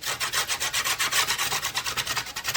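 The back of a chisel scraping the edge of a vintage trailer door clean, a loud, rhythmic rasping of quick, even strokes repeated steadily with no talk.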